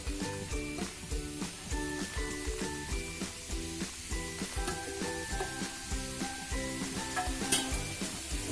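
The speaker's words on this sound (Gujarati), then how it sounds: "આપણે ઘી ગરમ થઈ ગયું છે હવે આપણે બીટ ખમણેલું છે તે નાખી દેશું" Grated beetroot frying in homemade desi ghee in a nonstick pan, a quiet steady sizzle beneath a louder repeating musical background.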